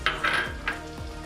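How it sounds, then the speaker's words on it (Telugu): Onions, green chillies and mustard seeds hit hot ghee in a pan for temple-style pongal, giving a brief, close sizzle punctuated by a few quick scrapes and clinks of a spoon against the pan. "పచ్చిమిర్చి, మిరపకాయలు, ఆవాలు అన్నీ వేసుకుని పచ్చివాసన పోయే వరకు కాసేపు వేయించుకోండి"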